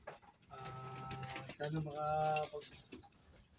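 A pet pigeon named Blacky coos in a few low, throaty rolling phrases, close and clear, while someone speaks briefly over it.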